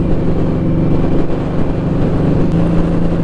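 A Harley-Davidson Nightster with the Revolution engine and an aftermarket exhaust, running close with a deep, steady rumble that rises slightly in a brief rev, heard alone with no voices.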